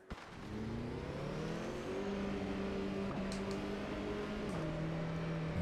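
Race car engines in the Automobilista 2 racing game during a wet classic Super GT-style race, a steady close droning engine note that rises and shifts pitch with gear changes, with no talking.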